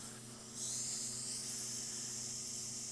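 An airbrush loaded with dark blue paint sprays over a painted Joker face, a steady close hiss that starts abruptly after a half-second of quiet and holds level to the end.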